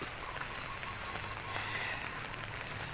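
Steady rain patters on a hard surface, a dense, constant hiss of drops with no voices, close by and even throughout.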